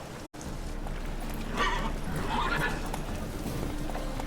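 Horse hooves clip-clopping at a gallop in The Witcher 3, the steady rhythmic beat running throughout with a brief whinny-like burst in the middle, close and moderately loud over game background.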